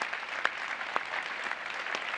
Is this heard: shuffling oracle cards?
no